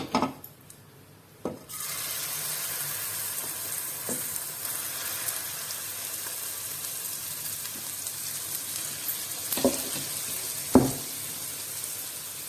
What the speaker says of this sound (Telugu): ఇప్పుడు నేను పోపు వేసుకున్న కడాయిలోనే మళ్ళీ దోశ వేస్తున్నానండి.